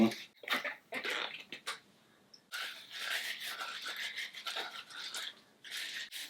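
Cucumbers being rubbed with salt to wash off their dark spots, a close, scratchy scrubbing in repeated strokes with a brief pause partway through.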